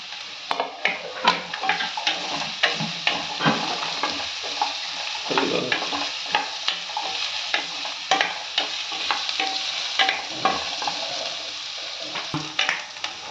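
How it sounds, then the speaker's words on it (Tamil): Dried chillies, onion and tamarind sauté noisily in a pan for radish chutney, a dense, close sizzle broken by frequent rapid spatula clacks and scrapes that keep up a busy, uneven rhythm throughout. "இப்போ காஞ்ச மிளகா வெங்காயம் புளி போட்டுருங்க இதுவும் கொஞ்சம் வதங்கட்டும்"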